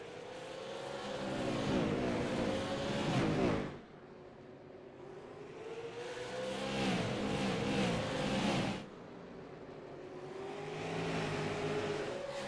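Race car engines roar at Slinger Speedway in an iRacing ARCS Xtreme event, rising and falling in two long swells of revving as the cars accelerate past, with a brief drop between passes.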